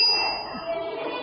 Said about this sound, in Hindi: हल्की हल्की घंटी की आवाज आ रही है